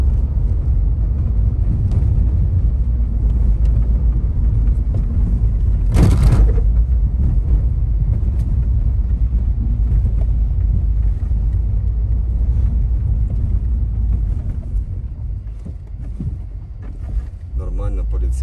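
A 2016 Citroen C4 Cactus rolls over an uneven road and a speed bump, a steady loud low rumble of tyres and cabin noise with a brief thump midway, while someone talks inside the car.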